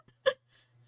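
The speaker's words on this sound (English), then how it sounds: "Your mic can't pick up human speech, but can pick up fucking burps." A single short burp pushed close into a microphone, a brief loud burst in otherwise quiet surroundings with a faint steady hum behind it.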